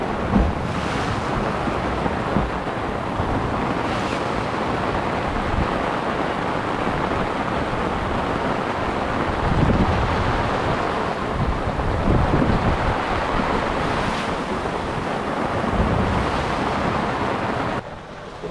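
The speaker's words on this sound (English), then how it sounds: "The winds are back" Wind and waves at sea around a sailboat make a steady, loud rush of wind noise and surf across the whole stretch, with occasional gusts swelling and no talk.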